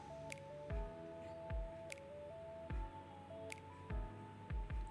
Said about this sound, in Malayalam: നന്നായിട്ടിനെ കൈകൊണ്ട് ഒന്ന് മിക്സ് ചെയ്തെടുക്കാം